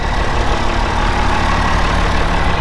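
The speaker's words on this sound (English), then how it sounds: "we have the tractor running to warm up the back end oil" A tractor engine runs steadily to warm up the back end oil, a continuous loud low-frequency rumble with an even drone and no change in pace, heard alone.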